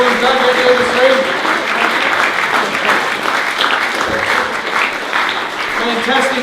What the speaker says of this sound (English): I think we can have a collective round of applause for the team of the last 25 years